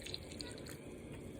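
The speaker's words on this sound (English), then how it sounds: "And I'm going to add some milk." Whole milk pours steadily into a pot of cooking carrot halwa, a soft continuous liquid splashing and trickling close by, with no talking.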